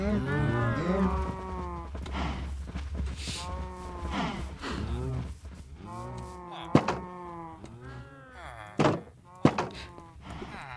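Cows in the video game Minecraft give low, drawn-out moos several times over a steady background, with a few sharp thunks toward the end; a voice may be talking alongside.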